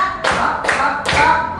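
Three sharp hand claps from a kindergarten class, evenly spaced about half a second apart, close and loud with a faint voice underneath.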